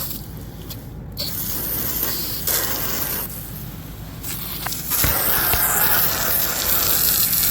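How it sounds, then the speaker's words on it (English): Steady hiss of water spraying droppings off a surface where pigeons perch, continuous and close, briefly interrupted and then growing slightly louder and harsher. "you can just spray it right off"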